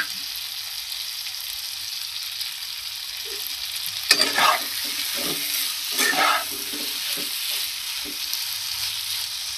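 Chopped tomatoes land in a frying pan of aloo broccoli egg curry, giving a steady soft sizzle with two brief louder bursts of spatter and stirring midway.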